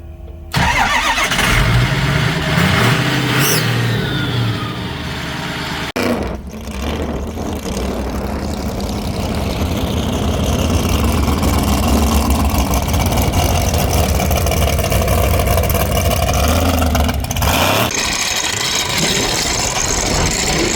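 Strokestang, a Mustang with a Powerstroke diesel swap, cranks up and settles into a loud, steady idle with rough low rumble, a brief dip and restart mid-way, at a burnout event.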